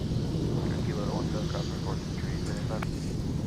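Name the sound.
airliners climbing out after departure from MSP airport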